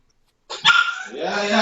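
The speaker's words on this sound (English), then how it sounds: "At least I hope that's a dog and not a child we're hearing." A dog barks and yips nearby after a moment of silence, mixed with a brief spoken word.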